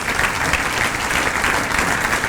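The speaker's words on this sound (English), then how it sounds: "Don't they all deserve a round of applause?" Dense, steady applause from a standing crowd at a chamber of commerce annual dinner, a continuous even wash of clapping filling the whole stretch without voices over it.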